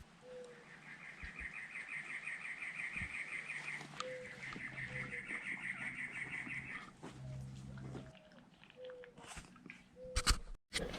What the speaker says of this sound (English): contemplating on the bird chattering, and just calming down, accepting